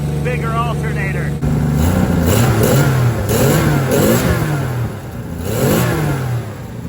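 A 1963 Plymouth Valiant's slant six engine revs up and down several times in quick succession, loud and close, its tone rising and falling with each blip of the throttle.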